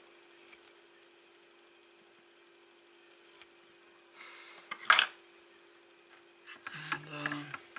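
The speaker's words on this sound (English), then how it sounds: "So, some double-sided tape. Some double-sided tape here." Double-sided tape handled and cut at a workbench while building a homemade electronic drum kit cymbal, with quiet rustling and rubbing, one sharp snip, then scraping and peeling near the end over a steady low hum.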